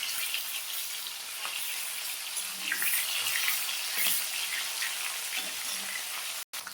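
A steady, crackling hiss of fresh snakehead fish frying in oil, close and continuous, with faint clatters of a utensil now and then.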